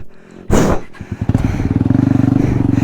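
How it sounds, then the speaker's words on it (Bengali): A motorcycle engine clatters and then settles into a steady, close, throbbing idle after a thump, with an excited voice shouting over it in a tense outdoor confrontation. "বাইক ঘোরাও ভাই, তুমি বাইক ঘোরাও"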